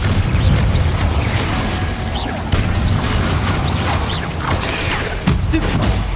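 Confringo fire spell explosions in Hogwarts Legacy, with loud, dense bursts and booms piling up over a continuous roar of game combat effects. Sharper blasts hit near the start, middle and end.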